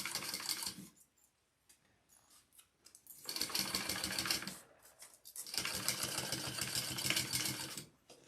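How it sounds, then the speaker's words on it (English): A sewing machine stitches a fabric seam at full seam allowance in loud, steady mechanical bursts, running about a second, pausing, then running again for long stretches with its rapid needle rhythm close by. "now I'm going to sew that at our full seam allowance"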